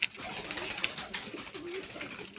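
Pigeons feed on roti sprinkled with black salt, giving out low cooing calls against a steady noisy background, with a brief knock at the start.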